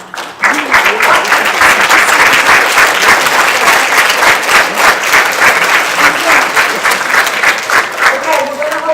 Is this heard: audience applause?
yes